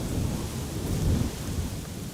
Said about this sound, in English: It looks like it is an intensifying shower